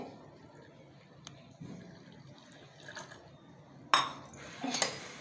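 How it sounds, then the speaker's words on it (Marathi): A tumbler of milk is poured over 200 grams of ground dry dates for kheer. A quiet kitchen background breaks into a sudden pouring splash with metallic clinks near the end. "हे एक फुलपात्रभर दूध आहे मी ह्याच्यात घालणार आहे"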